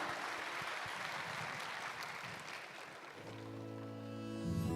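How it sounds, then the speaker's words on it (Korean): A church congregation at a Sunday worship service claps steadily and fairly faintly, then sustained musical chords rise beneath the fading applause toward the end. "다시 한번 크게 박수해 주시기 바랍니다."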